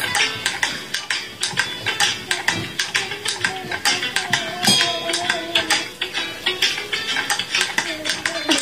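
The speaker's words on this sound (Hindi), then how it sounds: "अच्छे से मिक्स करना" Chocolate cake batter being mixed in a 3D cake cooking game: rapid, repeated clinking and tapping of utensil against bowl, steady and fairly close, with a person talking over it.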